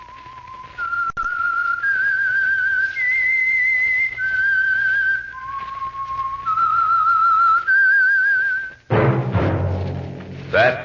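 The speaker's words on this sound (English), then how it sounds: "That whistle." The Whistler's signature tune from the old radio drama, a lone eerie melody whistled slowly in clear sustained notes that rise and fall, then a sudden loud burst of orchestral music cuts in near the end.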